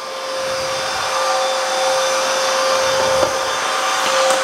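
Bissell CrossWave HF3 wet-dry vacuum cleaning a messy floor, a loud steady motor whine with a constant tonal hum and airy rush, running unbroken throughout at close range.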